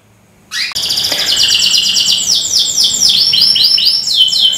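A canary sings loudly and close at night after a brief thump, pouring out a continuous run of rapid high trills and chirps with no other sound behind it.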